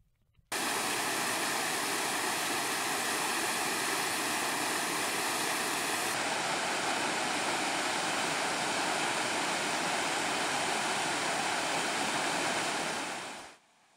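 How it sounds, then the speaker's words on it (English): Small stream tumbling down steep slopes into the Hafren Forest in Wales, a steady, dense rush of water that holds constant for over twelve seconds before cutting off, with no voices. "it is soon a small stream tumbling down the steep slopes into the Hafren Forest"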